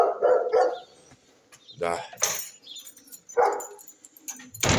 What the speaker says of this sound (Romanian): dar latră câinii la ăsta